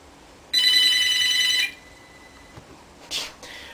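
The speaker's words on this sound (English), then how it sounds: "you heard my phone ringing" A telephone rings indoors in one loud, bright burst lasting about a second, then cuts off, leaving a quiet room with a few faint knocks and rustles.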